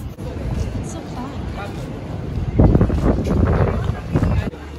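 Gusty wind buffets the microphone in rumbling bursts, with people's voices and outdoor crowd noise from a London street with lanterns mixed underneath.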